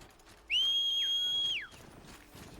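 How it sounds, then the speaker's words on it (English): A game character whistles in Horizon Zero Dawn: one sustained, fairly loud tone of about a second, rising at the start and sliding down at the end over quiet background ambience. "She has to stop to whistle."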